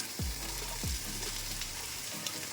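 Ginger garlic paste with carrots and beans fries in a pan in a steady, close sizzle, with a couple of low scraping stirs near the start.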